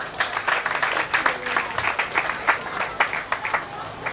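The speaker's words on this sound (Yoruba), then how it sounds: "Ẹ jẹ́ kí a pàtẹ́wọ́ fún Jésù." A congregation at a Christian wake keep claps together in a steady, dense round of applause that carries on throughout, with crowd noise mixed in.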